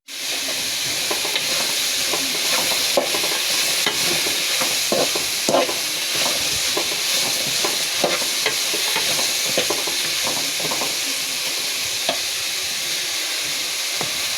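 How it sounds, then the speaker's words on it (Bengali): Food frying in a pan for an egg dish gives a loud, steady sizzle and hiss, with irregular clatters of stirring throughout and no talking. "কিছুক্ষণ ধরে এটা ভেজে নিব।"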